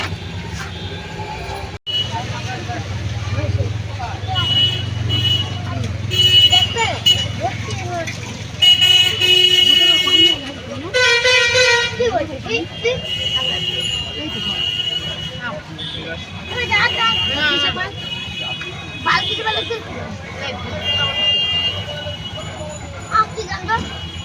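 Road traffic passes behind a car, with a bus approaching from the rear among other vehicles, a steady engine and road rumble carrying several short horn toots and a long honk in the middle, children's voices and chatter mixed in.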